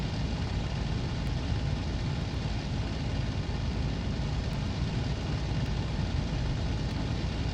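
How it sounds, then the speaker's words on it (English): Aircraft engine drone in the Cliffs of Dover flight sim, a steady, dense, low roar with no breaks, heard alone and loud throughout. "And just listen to the engine noises that it makes."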